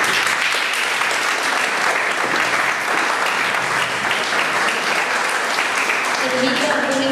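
A lecture audience at a law talk gives the speaker a strong round of applause, continuous full clapping throughout with murmured voices mixed in toward the end.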